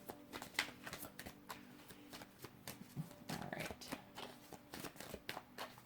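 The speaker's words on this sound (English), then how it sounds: "One more shuffle." A deck of tarot cards is shuffled by hand in quick riffling bursts of soft papery flicks, close and fairly quiet, with a brief spoken remark.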